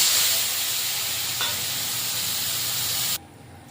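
Cumin seeds sizzling in hot oil in a pan as they are stirred for a bitter gourd, potato and fish curry, a steady close hiss with a faint scrape midway, cutting off abruptly near the end.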